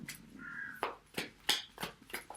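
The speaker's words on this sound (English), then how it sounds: "Yeah, the crows are going crazy. I don't know if you can hear them. They're right outside." Crows caw repeatedly just outside, a string of about six or seven sharp, harsh calls in uneven rhythm, moderately close and carrying over faint background noise.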